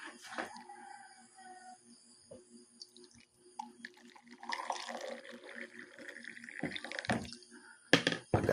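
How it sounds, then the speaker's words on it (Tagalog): Hot water poured into a drinking glass over a medicinal plant: a soft, close trickle and splash that builds over several seconds, with faint drips and small clinks before it. "ito ay lalagyan ko ng mainit na tubig."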